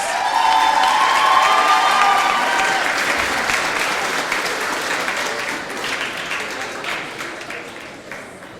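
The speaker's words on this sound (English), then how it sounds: "Massive round of applause for Ellen, please." A large audience at a student union election results announcement breaks into sustained applause with cheering and whoops, loud and dense at first, then gradually thinning and fading.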